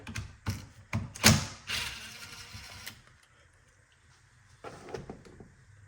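A coolant reservoir on a 2005–2011 Audi A6 Quattro is worked loose from its mount, giving several close plastic knocks, clicks and a scraping slide, with a brief rattle later and no talking.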